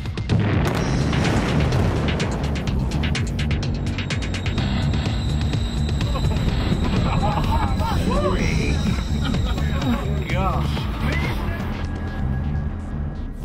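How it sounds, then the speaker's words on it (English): Chemical explosives detonating in a 1994 Pontiac Sunbird car: a sustained, loud, rumbling roar that dominates throughout, with crackling and debris-like bursts, and later fainter, scattered sounds over the low rumble. "Chemical explosions like this produce a powerful shockwave."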